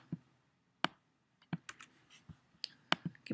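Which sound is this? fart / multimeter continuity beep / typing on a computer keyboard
typing on a computer keyboard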